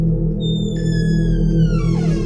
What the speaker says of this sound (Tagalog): Yung tunog ng kahoy na pinto parang umingay sa buong loob.